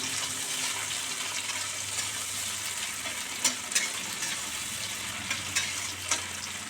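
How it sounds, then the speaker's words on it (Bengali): Prawns fry in hot oil with a steady, bright sizzling hiss and a few sharp pops and spatters near the end, close and continuous with no speech. "চিংড়িগুলো আগে তেলে ভেজে নিতে হবে চিংড়িগুলো একটু ভেজে নিই"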